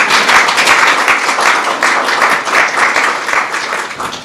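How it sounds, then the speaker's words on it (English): Audience applause at a White House swearing-in ceremony for the administrator of the Centers for Medicare and Medicaid Services, a steady, dense roar of many hands clapping that holds loud and even throughout. "You can applaud that if you want."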